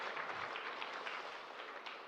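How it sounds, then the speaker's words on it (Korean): A church congregation claps in welcome during a Sunday morning service, a fairly faint, steady patter of many hands heard from a distance. "우리 환영하는 박수 해주셔서 감사합니다"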